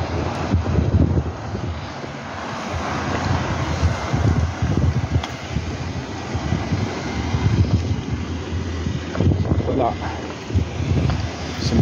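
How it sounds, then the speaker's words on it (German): Gusty wind buffets the microphone in low rumbling bursts outside a café and restaurant, continuous and fairly loud, with people talking now and then. "Bisschen windig heute."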